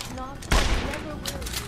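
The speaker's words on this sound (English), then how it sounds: "Gunshots!" A sharp burst of gunfire rings out in a Deus Ex: Human Revolution cutscene. It is a single loud crack-like blast partway through, with faint echoing noise before and after.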